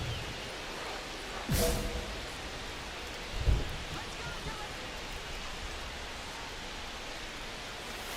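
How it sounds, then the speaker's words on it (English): Steady rain hissing over a ballpark in MLB The Show 25, with a couple of low thunder rumbles breaking through the wash of rainfall. "It feels like we might be headed towards a rain delay if the weather doesn't ease up, Chris."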